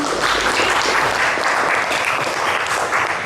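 Classroom applause during a teacher training session at Disdik Kota Surakarta, a loud continuous burst of many hands clapping close by, steady throughout with no speech over it.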